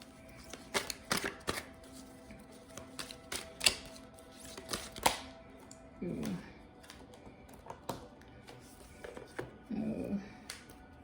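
A deck of motivational insight cards is shuffled and drawn, giving quick papery flicks and taps in bursts, with soft riffling swells, close and fairly quiet, while a person talks.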